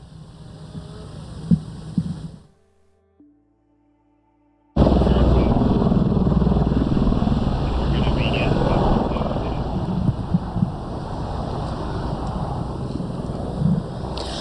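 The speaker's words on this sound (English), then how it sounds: "All day long, drop after drop, helicopters putting out hot spots that continue to pop up" Firefighting helicopters make repeated water drops on wildfire hot spots after smoke and storms had grounded air attack; a loud, steady rotor and engine roar fills the clip after a brief quiet gap, with wind-like rumble throughout.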